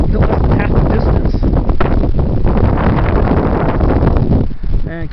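Strong gusty wind on an exposed mountain trail on Black Mountain in the San Bernardino National Forest buffets the microphone loudly and continuously, with rough roaring surges.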